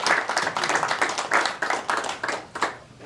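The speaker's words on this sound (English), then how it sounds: "Again, round of applause." Audience members at a school board of education meeting clap in a round of applause, fairly loud and close, with some individual claps standing out in an uneven, thinning rhythm.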